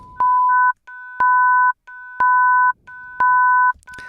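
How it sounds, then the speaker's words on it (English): Two synthesizer oscillators at 1000 Hz and 1500 Hz sound together as a perfect fifth, a pure steady dyad repeated in four even half-second pulses with short gaps. "So that is the sound of"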